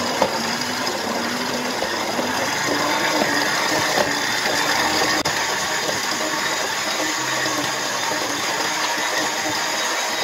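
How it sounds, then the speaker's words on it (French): A kitchen robot mixer kneads burger bun dough as butter is worked in, a steady whirring motor drone with soft churning running continuously at close range, with no voices. "J'ajoute la vitesse du robot."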